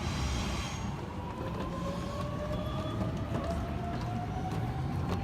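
A Sydney Trains V-set double-deck intercity train passes through Petersham station at night, a loud, steady rumble of wheels and motors on the rails with a rising whine, sustained close by for the whole stretch.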